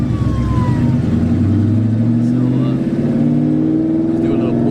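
Cammed Ford Mustang with cut mufflers and straight-pipe axle dumps revving loud and close, a rough rumbling exhaust note that climbs steadily in pitch with a choppy idle texture.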